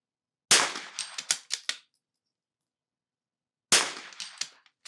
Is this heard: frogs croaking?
no